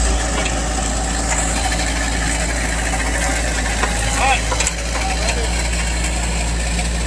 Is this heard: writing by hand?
no